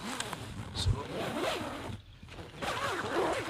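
A two-person backpacking tent's door zip is pulled open in a few long, rasping strokes, close and loud, with a short pause midway.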